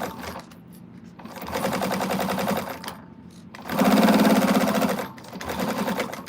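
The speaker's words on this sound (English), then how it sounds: "So you're gonna do a top stitch on each end." Sewing machine top-stitching the ends of fabric edges, its rapid mechanical stitching running in several bursts of varying length with short pauses between.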